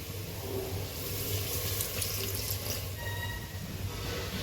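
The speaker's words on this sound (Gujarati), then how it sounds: "પાણી નાખશું." Water poured into a pressure cooker holding a Kathiyawadi whole eggplant and potato curry, a steady splashing pour running throughout at moderate level with no voices.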